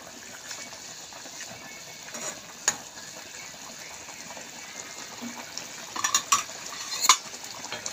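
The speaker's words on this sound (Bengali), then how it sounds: "এবারে দেখতে থাকুন মাছটায় ফুটছে কীরকম, দেখেছেন তো? টকবার টকবার টকবার টকবার করে ফুটছে।" Fish curry simmers in a pan, a soft, quiet bubbling with scattered small pops and a few sharper clicks toward the end, no talking.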